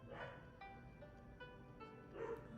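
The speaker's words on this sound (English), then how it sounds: "they are barking up a storm" Little pet dogs yip and bark in quick bursts indoors, with a whimpering edge, the barking clustered at the start and again near the end and fairly distant.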